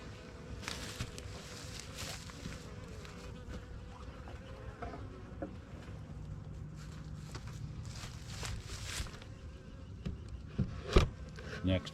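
Honey bees buzzing around nuc boxes, a continuous close insect hum with individual bees droning past the microphone, plus light footsteps or handling sounds and a few knocks near the end.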